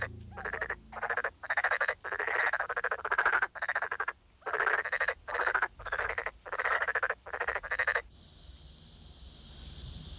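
Tree frogs on a sandy river-delta island croak loudly and close in rapid repeated bursts with short gaps, continuing steadily before ending abruptly into quieter ambience.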